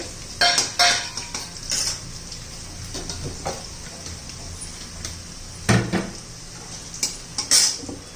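A spoonful of cumin seeds drops into a hot pan for green chilli papad thecha, with clinks of a spoon against the pan and a soft sizzle, close and moderately quiet.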